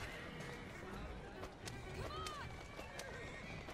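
Hooves clip-clopping at a run along with a horse's whinny in the video game Assassin's Creed Syndicate, fairly quiet amid a busy background mix.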